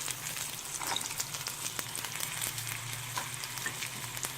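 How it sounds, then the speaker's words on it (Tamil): Pepper and chillies sautéing in a pan for snake gourd seed chutney, a steady low sizzle with faint scraping of a spoon, close and continuous with no talking. "மிளகு, மிளகாய் எல்லாத்தையும் சேர்த்து இதில் நல்லா வதக்கிக்கலாம்."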